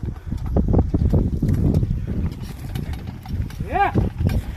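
Bullocks hauling an automatic seed drill through a peanut field, with irregular hoof clops and rattling implement noise close by, a short animal call near the end and voices talking over it.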